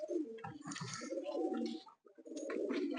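Several large pigeons in a loft coo and grumble nearby in a dense, overlapping chorus, pausing briefly before resuming.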